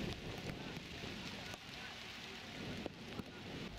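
Light rain falls during an under-17 youth football match at an outdoor training ground, a constant broadband hiss of drops and wind noise with a couple of faint knocks.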